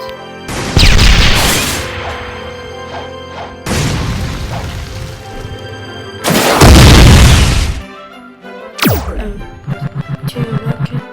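Rocket explosions from the Roblox game Blox Fruits, several loud booming blasts in succession with crashing tails, ending in a rapid burst of repeated pops, all game audio without talk.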